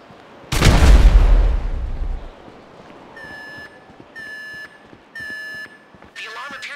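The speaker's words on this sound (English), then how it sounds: "The alarm appears to be active." A loud explosion booms at the start of a Grand Theft Auto V heist mission, then an alarm sounds in repeated steady beeping bursts, loud and close.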